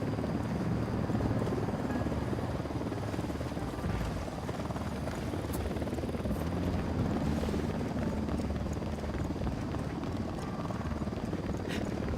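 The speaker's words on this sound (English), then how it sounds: "Chopper's approaching." A helicopter approaches in Ghost Recon Wildlands, a dense rumbling rotor wash with rapid thudding chop layered over wind and ambient game noise, steady and fairly loud throughout with no speech.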